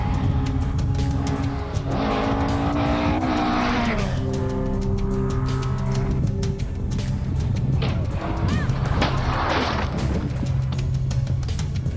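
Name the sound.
racing cars during car race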